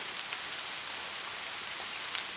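Steady, even rain hisses down without pause, soft and continuous, with no voices.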